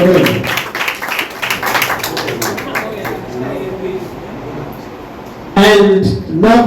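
Audience clapping at a school science and maths quiz prize announcement in Narkwa, Ghana, with steady scattered applause from a crowd over the first few seconds, fading, then a louder burst of claps near the end.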